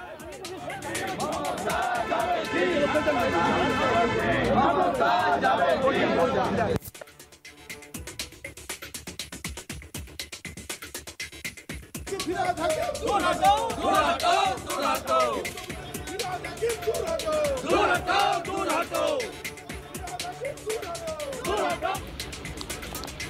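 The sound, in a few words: BJP legislators shouting slogans in assembly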